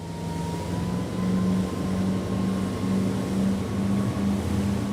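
An Azimut Atlantis 34 motor yacht engine drones loudly and steadily with a low pulsing hum under half throttle, its pitch holding fairly even throughout.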